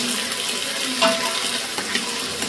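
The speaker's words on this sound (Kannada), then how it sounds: "ಇವಾಗ ಕಾಳನ್ನು ಎಣ್ಣೆಯಲ್ಲಿ ಚೆನ್ನಾಗಿ ಫ್ರೈ ಮಾಡ್ಕೊಂಡಿದ್ದೀವಿ" Fresh pigeon peas frying in oil, a continuous close sizzle with a brief scrape of stirring, no voices.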